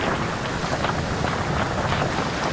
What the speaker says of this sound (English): When it rains in the Amazon, it can really rain